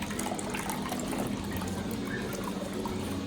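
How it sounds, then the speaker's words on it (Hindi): Water poured over falsa fruit pulp while making juice, a steady close trickling and splashing of liquid running continuously. "इस तरह आप पानी डालें और थोड़ा सा और इसको मिक्स करें।"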